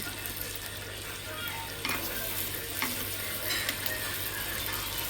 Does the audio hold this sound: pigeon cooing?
no